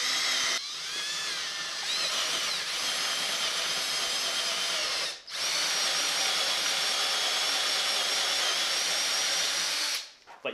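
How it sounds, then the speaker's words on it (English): Cordless drill turning a Forstner bit into a barn beam, a loud continuous whining grind held steadily for several seconds, broken by one short pause before boring resumes and then winding down at the end. "Forstner bits work better at low speed, so switch to a low RPM if you're using a cordless"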